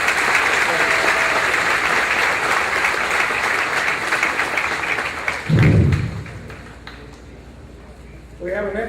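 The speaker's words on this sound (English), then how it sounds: "Please give them a round of applause." An annual meeting audience applauds board members with broad, steady clapping that gradually thins and fades, followed by a brief burst of talk and a voice resuming at the end.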